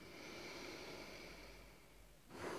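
Slow breath taken during a guided EFT tapping meditation on body acceptance, a soft steady exhale followed by a louder, closer intake of air at the end, with no talking.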